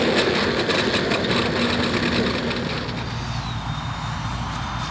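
An electric ducted fan RC jet winds down after landing at an outdoor e-jet festival in Florida, a steady broadband whir with a falling whine, fairly close and continuous throughout.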